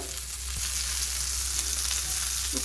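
Fish frying over a low flame in a home kitchen, a steady close sizzle of oil that runs unbroken throughout, with a faint clink near the end and no talking.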